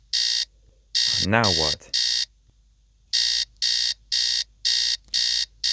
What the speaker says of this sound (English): what are we gonna do about this stupid alarm clock?